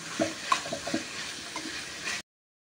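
Tomatoes and capsicum frying in a pan: a close sizzle with several quick spoon scrapes and clinks over about two seconds, then abrupt silence.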